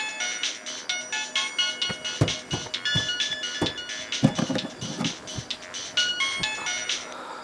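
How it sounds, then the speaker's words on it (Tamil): A phone ringtone plays in a Tamil film scene, a bright, repeating electronic melody of rapid chiming notes that runs continuously over several seconds with some faint rustling beneath and no speech. "ஒரு ஃபோன் வந்துச்சு."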